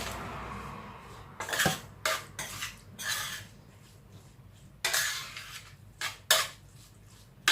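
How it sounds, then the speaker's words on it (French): A chickpea, carrot and bulgur patty mixture being mixed in a bowl, heard as bursts of scraping and clinking of a utensil against the bowl separated by quiet pauses, close and moderate. "Là, vous mélangez bien pour que ça, tout ça, ça prenne bien."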